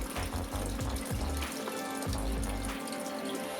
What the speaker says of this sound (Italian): procedo col risciacquo, facendo passare attraverso il sistema un po' dell'acqua contenuta nella tanica.